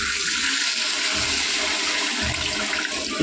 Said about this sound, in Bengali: দেখো জল অ্যাড করছি।